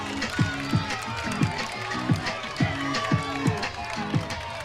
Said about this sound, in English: And now Iola-Scandinavia crowd rises to their feet.